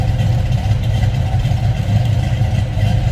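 A 1965 Ford Mustang Fastback with a 302 crate engine and a mild cam idles steadily up close, a loud low rumbling burble with a slightly uneven, loping rhythm.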